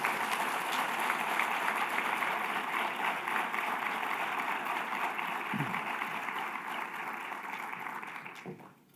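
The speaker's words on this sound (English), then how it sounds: "One more big round of applause" Sustained applause from a large crowd at a summit funding announcement, dense and even throughout, tapering slightly toward the end.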